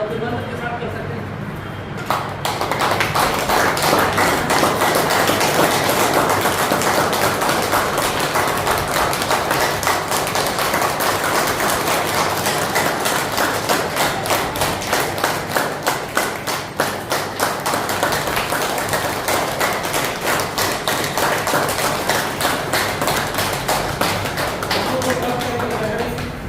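Group of people clapping hands together at a yoga camp held at a girls' school in Vrindavan, a dense continuous patter of many claps going on for most of the stretch, loud and steady, with talk underneath.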